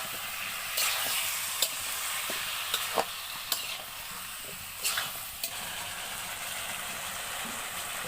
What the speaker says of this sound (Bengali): এরপর আলুগুলি দিয়ে দিচ্ছি এখন।